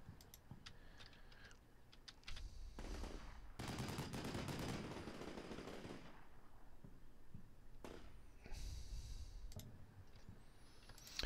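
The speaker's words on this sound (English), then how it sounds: "Is that mortar actually shooting?" Mortar and small-arms fire in the Combat Mission Shock Force 2 war game, a series of sharp bursts and crackling shots with louder thumping impacts, moderately distant, no talk.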